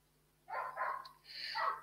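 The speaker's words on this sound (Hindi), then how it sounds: "अरे चौको को पता नहीं क्यों जब मैं लाइव आती हूँ तभी इसको भौंकना होता है" Indoors at home, a pet dog gives two short bursts of barking a moment apart, fairly faint and somewhat distant, with no talking over it.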